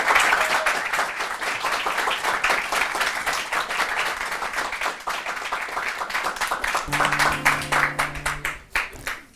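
Sustained audience applause welcomes a singer onto a French television show stage, dense and steady throughout before thinning out at the close.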